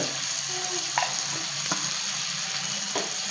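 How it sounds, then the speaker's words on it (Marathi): Malvani masala, chilli and asafoetida frying in a pan for an Indian home-cooked curry, giving a steady, close sizzle with a few sharp clinks of stirring, no voices over it. "हे छान असं फ्राय करून घ्यायचं ना"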